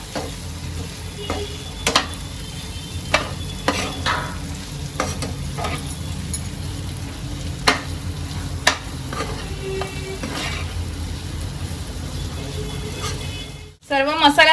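Ivy gourd (tendli) pieces, already fried, being stirred and mixed with spices in a pan: a steady low sizzle runs throughout, broken by repeated sharp scrapes and clicks of a spoon against the pan, close and fairly loud.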